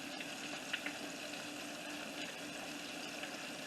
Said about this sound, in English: So I'm going to fry this usually about 5 to 8 minutes.